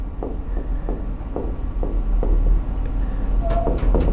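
Marker writing on a board during a grammar lesson, a run of close, rhythmic squeaky strokes and taps with brief scratchy dashes, heard alone without talk.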